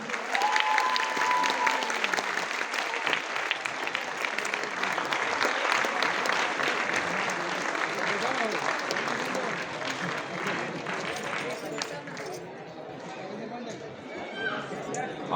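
Loud, sustained applause from a large audience filling the hall, dense clapping continuing steadily for over a dozen seconds before easing slightly near the end, with faint crowd murmur mixed in.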